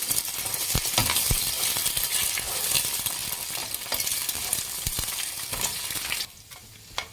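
Egg frying in oil on a low flame for egg noodles, a steady loud sizzle with sharp scraping and tapping from a utensil stirring the pan, the sizzle dropping away near the end.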